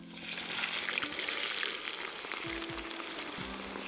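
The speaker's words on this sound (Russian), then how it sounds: "А мы отправляем жариться картофель." Potatoes frying in a cauldron over an outdoor campfire, a continuous close sizzle with faint low knocks and stirring sounds underneath.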